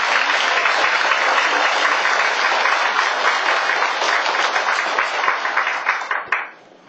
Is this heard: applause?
yes